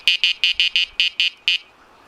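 Sonik SKX carp fishing bite alarm sounding on a take: a rapid run of eight sharp, high electronic beeps in quick regular succession, loud and close, then a faint fading tail.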